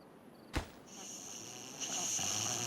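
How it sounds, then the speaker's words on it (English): A beaver snoring in the colony-building game Timberborn, a soft looping in-game snore with a brief louder snort early on, set over a steady ambient hum with no talking. "I love that snoring noise."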